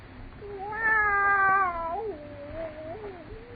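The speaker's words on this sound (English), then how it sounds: "That cat." A cat in a horror radio drama meows in a drawn-out, wavering call that rises, holds and then trails off into a lower, softer whine, moderately loud and heard alone.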